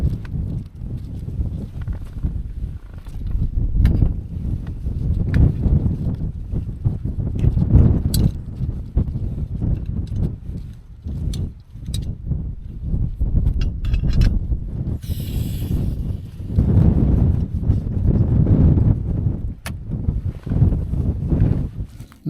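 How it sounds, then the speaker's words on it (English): Gusty wind buffets the microphone at a tent campsite, a steady low roar with rising and falling surges and occasional sharp flaps, loud and close throughout with no talk. "It's windy after all"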